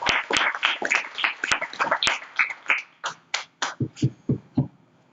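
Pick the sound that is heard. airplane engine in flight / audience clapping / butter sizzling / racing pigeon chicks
audience clapping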